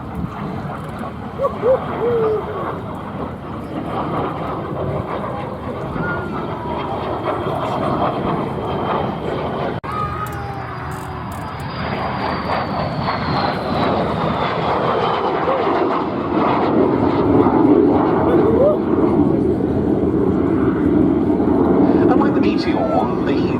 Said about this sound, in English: Specifically the Vampire FB6 single-seat fighter bomber version from the Norwegian Air Force Historical Squadron.